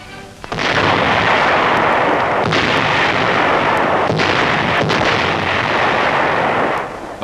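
Loud booming artillery fire from captured German Krupp guns in a 1944 wartime newsreel rolls on continuously, with several heavy blasts punctuating a dense roar of gunfire.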